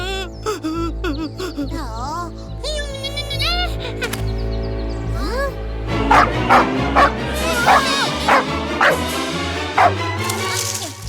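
A black cartoon dog barks and yips in a lively burst of repeated barks, loud and close, after earlier whimpering, with cartoon voices and music around it.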